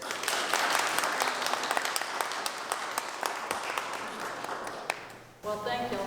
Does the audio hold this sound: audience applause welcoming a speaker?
yes